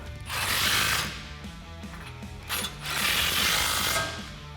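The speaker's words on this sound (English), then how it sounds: "Grab your 18 socket and tighten those down." A hand ratchet with an 18 mm socket tightens the bumper plate bolts on a 2018-2020 Ford F150 heavy-duty front bumper, giving two bursts of rapid close clicking separated by a short pause.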